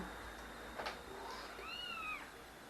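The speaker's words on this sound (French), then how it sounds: "Donc voilà, vous voyez le chat qu'on vous a parlé." A cat meows in the Zelda video game, a single faint drawn-out call with rising and falling pitch over a low background hum, with a short soft noise just before it.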